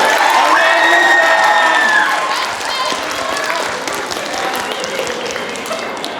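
An audience at a dad panel during a fan convention breaks into loud, dense applause and cheering with whoops, strongest at first and then easing to a steady crowd roar.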